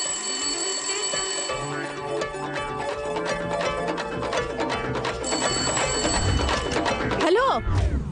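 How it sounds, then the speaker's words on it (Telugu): A telephone rings with an incoming call to a tapped number during a crime-thriller film scene, its repeated electronic ringing woven into a loud, continuous music score. "ఇంకో నెంబర్ నుంచి మనం ట్యాప్ చేస్తున్న నెంబర్ కి కాల్ వస్తుంది సార్."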